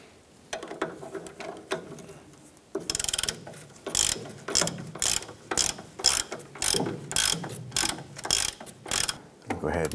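A ratchet snugs the tie rod nut on a 1994-2004 Chevrolet S10, its clicking coming in repeated close, loud bursts of strokes with brief pauses between them and no talking.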